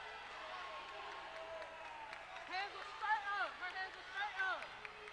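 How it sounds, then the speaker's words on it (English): Basketball crowd at a women's college game between Columbus State and Tuskegee reacting to a foul call, a steady murmur of voices swelling into rising shouts and cries of disbelief in a gym. "Crowd cannot believe it right now."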